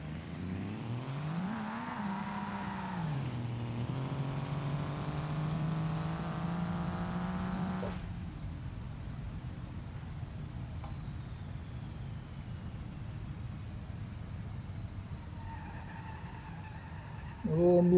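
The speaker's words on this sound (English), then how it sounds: "I'm going to go ahead and do a slight launch here with this thing in all-wheel drive" An El Camino with all-wheel drive launches in BeamNG Drive, its engine revving hard and climbing through gears for several seconds before cutting back to a lower drone with a long whine, loud and steady throughout.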